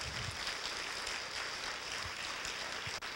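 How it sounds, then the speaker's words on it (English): An audience at a birthday-bash business presentation gives a round of applause for a group of web designers, a steady wash of clapping heard at moderate distance with a few louder claps near the mic. "I want everybody to give them a round of applause right now."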